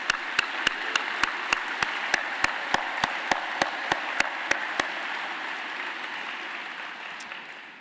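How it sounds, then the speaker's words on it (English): Audience applause at a D-Day commemoration and museum anniversary celebration: a broad, steady wash of clapping punctuated by sharp, evenly spaced loud claps, gradually fading out over the final seconds. "But let's give Nick a round of applause"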